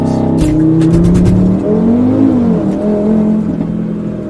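A 2015 Audi RS3 with its 2.5 TFSI five-cylinder engine revs up loudly and close, pitch climbing and falling through a few throttle blips before settling into a rising drone.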